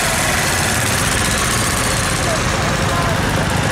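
A Fordson Power Major or early Super Major tractor idles steadily at an agricultural show arena, its low engine rumble close and constant throughout with heavy outdoor noise and no clear pauses.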